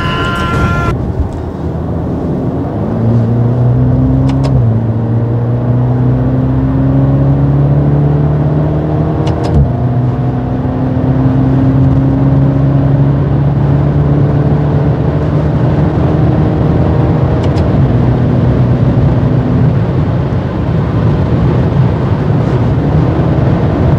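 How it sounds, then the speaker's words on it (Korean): Maserati Ghibli GT mild hybrid accelerating hard on the road, a loud engine note rising in pitch through several gear changes, close and steady throughout. "가속 한번 준비해 봐야죠."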